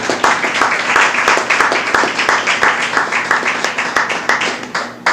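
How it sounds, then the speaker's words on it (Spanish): Sustained applause from a church congregation during a sermon, dense clapping from many hands with sharp individual claps standing out, steady and loud throughout before thinning near the end. "Un fuerte aplauso ahí al Señor"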